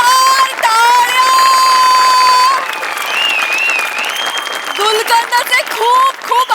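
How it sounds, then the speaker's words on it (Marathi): Loud audience applause and cheering at a Marathi comedy stage show, a continuous dense wash of clapping with whoops over music-like tones, easing slightly midway then swelling again. "जोरदार टाळ्या"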